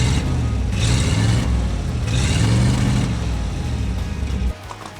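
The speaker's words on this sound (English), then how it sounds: "Let me pitch it down over here so you can hear the exhaust." A 1971 Ford F350 truck engine and exhaust run loud and close, a deep rumbling drone with slight revving swells that drops off abruptly just before the end.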